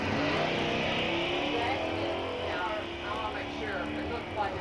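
A Chevrolet truck and a Camaro launch together at a drag strip, a dense, loud engine roar that swells and holds. A track announcer's voice runs faintly underneath.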